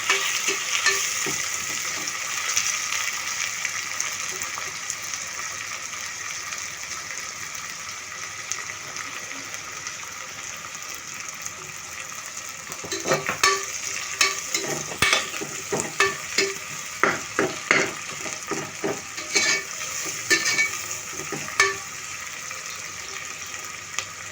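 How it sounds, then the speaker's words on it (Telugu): Four green chillies are frying in oil in a pan, giving a continuous hissing sizzle. The sizzle grows busier partway through, with repeated stirring scrapes and clacks against the pan. "పచ్చిమిర్చి కూడా 4 పచ్చిమిర్చి తీసుకున్నాను. వీటిని ఎర్రగా వచ్చే వరకు వేయించుకోవాలి"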